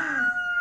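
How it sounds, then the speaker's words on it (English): A short rooster crow, a single brief call that rises and holds, heard on its own without any talking. "A rooster in the morning."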